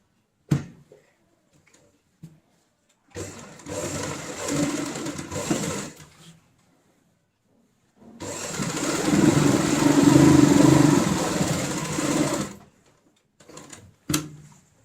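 A sewing machine stitches along the side of a fabric tote bag in two bursts, a few seconds then a longer run, with a steady whirring motor and needle chatter, separated by quiet pauses and small handling clicks.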